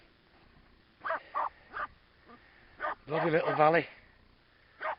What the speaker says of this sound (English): Well, Scruffy's still happily barking away there